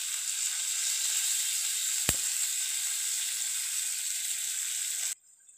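Onions and tomatoes sautéing in a pan for a kuruma, with a loud, steady hiss of sizzling oil, a single sharp click partway through, and an abrupt stop near the end.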